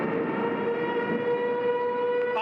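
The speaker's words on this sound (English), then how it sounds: "now the siren's out" An outdoor civil warning siren wails downtown during a storm, a loud, steady sustained tone held for the whole brief stretch with no talking.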